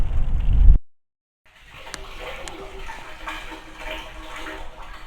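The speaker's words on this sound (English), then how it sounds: "You can see the water coming out of there." After a short burst of noise and a moment of silence, water rushes and gushes steadily out of a hose in the open, moderately loud, with a breezy background.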